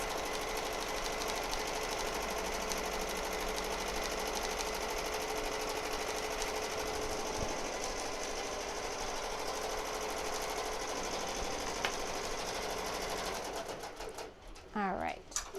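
An embroidery machine tacking down a beach towel applique in white thread, a loud, fast, even mechanical whir of stitching that runs continuously before slowing and stopping near the end, with a voice speaking.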